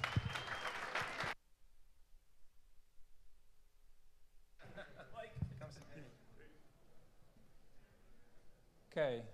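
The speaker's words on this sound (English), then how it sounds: "Please give him a round of applause." Audience applause for a speaker introduced at a technical talk on cryptocurrency proof-of-work mining, with a burst of clapping at the start, then a quiet pause, followed by renewed clapping and room murmur, and a brief final burst.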